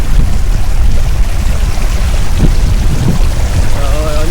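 Vinfast Evo electric scooter pushing slowly through flood water up to the footboard, a loud steady wash of churning, splashing water close by throughout, with a faint voice near the end.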